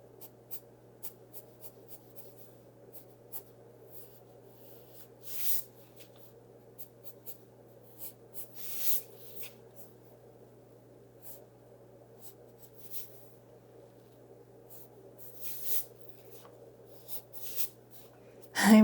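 Pencil drawing kittens on paper, with soft scratchy strokes and occasional hand brushes across the sheet, quiet and close over a low steady hum.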